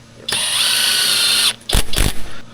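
A power drill drives U2 universal screws into deck joist blocking, one long steady whirring run followed by two short bursts as the screw seats, close and loud.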